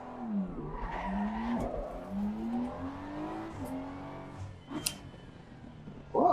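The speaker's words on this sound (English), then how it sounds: "let's do a lap in the car." Race car in the Assetto Corsa Competizione racing game on an American track, engine revving and shifting through a lap with rising and falling pitch, tires skidding and squealing, a sharp burst near the end, no talking.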